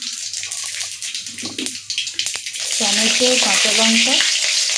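Cumin and five-spice seeds hit hot oil for Bengali spinach cooking, breaking into a loud, steady frying sizzle after a few clattering stirs and knocks, with a voice speaking over the start.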